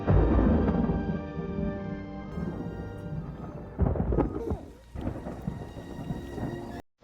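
A sudden downpour with rumbling thunder, loud and close, as rolling low booms swell and fade over constant rain hiss, with a sharper crack near the middle before the sound cuts off abruptly.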